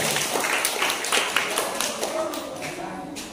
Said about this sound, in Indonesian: Bisa tepuk tangan lagi.